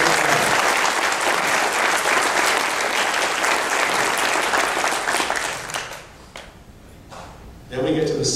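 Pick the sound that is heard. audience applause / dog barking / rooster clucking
audience applause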